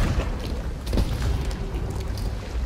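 Cannon fire in Sea of Thieves during a galleon battle against a kraken, heavy low booms rolling over each other amid continuous ship and water noise, dense and loud throughout.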